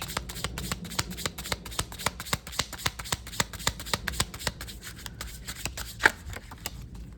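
Tarot cards shuffle in quick, crisp riffling bursts, a close run of rhythmic flicks and snaps repeating throughout at low level, no speech.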